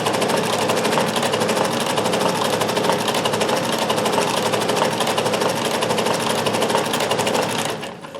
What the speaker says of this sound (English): Sews really nicely, this machine.